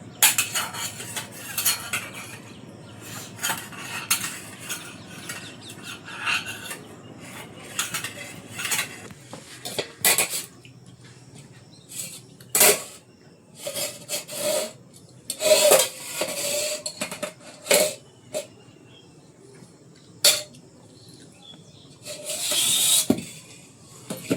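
A pot lid is lifted off and set back during cooking, with metallic clanks and clatter of cookware and utensil scraping in bursts over a quiet background.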